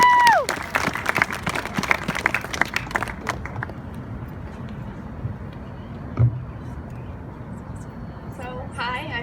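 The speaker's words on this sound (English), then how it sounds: "give her a round of applause" An audience gives a brief burst of applause and cheering for a young guest speaker, loud at first and fading after a few seconds into room noise, with voices talking over it.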